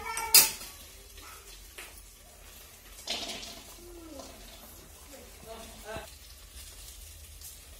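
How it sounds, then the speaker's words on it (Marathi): Onion sizzling in a wok with clinks of utensils and a sharp metallic clatter, fairly quiet, with some background voices. "इकडच्या कढईमध्ये कांदा परताय टाकणार आहे"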